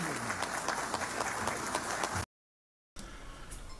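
A crowd applauds in a legislative chamber with thick, continuous clapping that cuts off abruptly into a short silence, then returns fainter and more distant.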